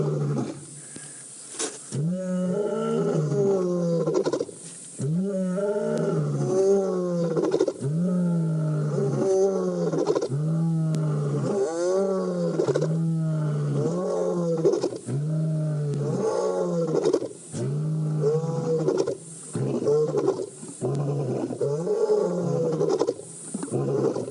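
Lions on safari roaring in a long repeating series of deep, loud, close grunting roars, each followed by short pauses, building and continuing for over twenty seconds.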